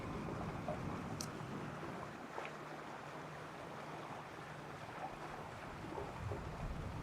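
Boat cruising past islands off Espiritu Santo Island, Mexico, with a steady low engine and hull rumble under constant wind buffeting on the microphone, fairly quiet and unbroken throughout.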